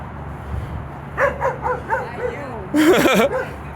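Dogs outdoors giving a run of short yips and barks, loud and close, rising to an excited burst of overlapping barking near the end.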